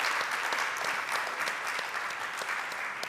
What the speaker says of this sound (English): Can I have a big round of applause for both of our fusion experts?